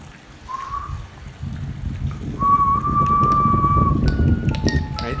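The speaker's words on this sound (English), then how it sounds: "so I'm going to whistle one more time" A person whistles a few sustained, clear tones, one short note followed by a longer held one and then several shifting pitches, over a low background rumble.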